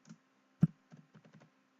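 Function keys on a computer keyboard tapped several times, one louder keystroke followed by a loose cluster of lighter clicks, close and quiet in an otherwise silent room.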